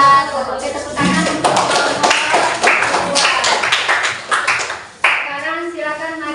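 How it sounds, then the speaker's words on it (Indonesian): Hand clapping from a classroom group after a presentation, uneven taps and claps of a few people mixed with voices talking over it, fading and then a final burst. "Oke, tepuk tangan."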